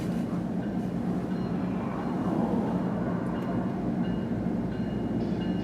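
CSX freight train Q130 rolls past in Suffolk behind lead locomotive 3209, an AC4400CW, producing a steady low rumble and rolling rail noise at moderate distance that stays even throughout.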